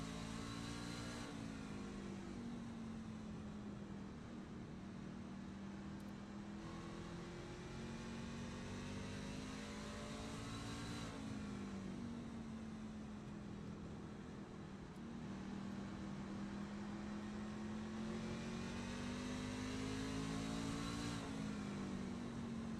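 Racing truck engines on track at North Wilkesboro in the iRacing game, onboard the 9 truck chasing the 45: a steady droning engine note that swells and dips with repeated gear-like rises, heard alone with no talk.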